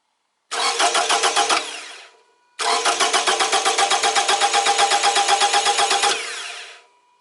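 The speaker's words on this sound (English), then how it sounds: "Okay, and I go to start engine." An engine cranks during a compression test with a rapid rhythmic chugging, stops briefly, then cranks again for several seconds before fading out; loud and close, no voices.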